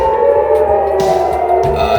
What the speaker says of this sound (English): They're quite extensive sirens. You hear them all over Tel Aviv right now.